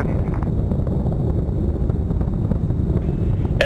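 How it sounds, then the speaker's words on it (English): Space Shuttle Atlantis's three main engines roar during launch ascent through maximum dynamic pressure on STS-125, a loud, steady, rumbling wall of noise with wind-like crackle and no pauses. "all three engines now throttling down as the area begins"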